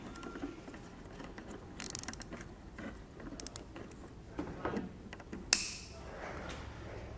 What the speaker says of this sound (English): we're just going to use one of these cable ties here to make our attachment.